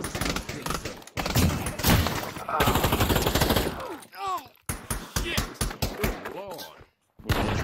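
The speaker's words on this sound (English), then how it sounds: "Oh, he just shot a random person." Rapid gunfire in the Pavlov VR shooter, loud crackling bursts of shots mixed with excited voices talking over them, briefly quieting before a final flurry and a short silence.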